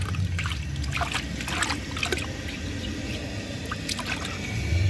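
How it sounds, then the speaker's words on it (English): Water swirling and trickling inside a 1994 Mansfield Alto toilet bowl, a continuous close wet gurgle with a few brighter splashy bursts. "So I'm just gonna swirl some water around up there so that it gets it."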